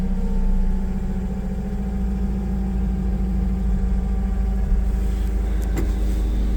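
A new Toyota 8FGJF35 gas forklift engine runs close by with a steady low rumble and hum that continues throughout, with a few light clicks near the end.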